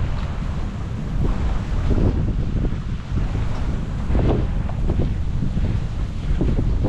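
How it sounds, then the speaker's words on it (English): Ocean waves and strong wind roar steadily at a beach during shore fishing, a dense, continuous wash of surf and buffeting gusts against the microphone with no talking. "Waves are crazy on the outside."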